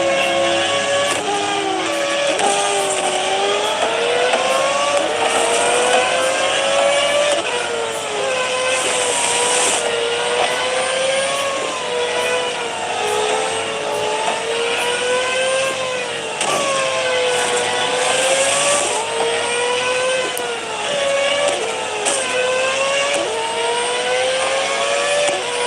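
A race car engine in the mobile racing game Real Racing 3, loud and sustained, rising and falling in pitch as the car accelerates and shifts, with a steady whining tone and a faint hiss underneath throughout.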